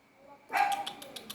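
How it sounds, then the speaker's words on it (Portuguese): A pet dog barks at the neighbours in a short burst of a few sharp yips, fairly faint and indoors after a moment of near silence. "Ela tá latindo, gente, pros vizinhos."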